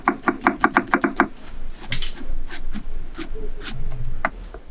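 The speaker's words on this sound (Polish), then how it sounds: "Drobno posiekaj cebulę" An onion is finely chopped with a knife on a cutting board: about eight quick, crisp, evenly spaced knife strikes come close and loud, then give way to softer scraping and shuffling of the pieces.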